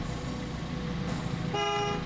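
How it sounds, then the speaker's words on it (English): A truck horn in the video game RoadCraft sounds one faint, steady toot near the end, after a low rumble of engine noise, with no talk over it. "can you honk in the game?"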